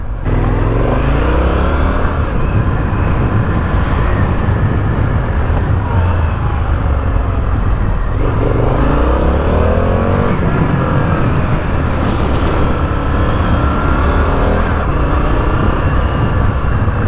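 Riding an Indian FTR 1200S motorcycle along Bondi Road, with a loud close engine drone and wind roar, while other vehicles sweep past in several rising and falling passes.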